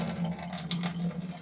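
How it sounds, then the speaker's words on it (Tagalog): Water runs steadily as a plant is potted, a close, continuous splashing trickle with a low hum beneath it and no talking. "Bawasan natin ang tubig."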